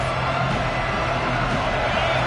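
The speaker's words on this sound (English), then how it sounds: "This crowd knows when to bring it." A football stadium crowd roars steadily in the background while a commentator talks over it.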